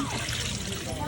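Water pours into a pot of browned chicken for pilaf with a steady rushing splash, fairly close, while a voice talks over it.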